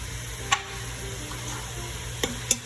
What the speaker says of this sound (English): I'm gonna just sprinkle it in and then stir it all together.